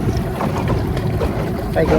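A small boat's motor runs out on the Ningaloo reef, a steady dense low rumble mixed with wind buffeting the microphone, continuous and fairly loud throughout.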